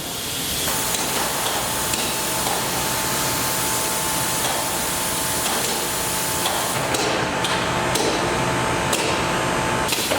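A dual-setup vacuum forming machine runs as its clamp frame travels into the oven, a loud steady mechanical hiss and hum with a few sharp clicks and knocks near the end.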